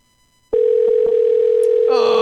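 A steady ringback tone of an outgoing phone call, a single sustained electronic note that starts abruptly and holds continuously, loud and close, with brief background noise near the end.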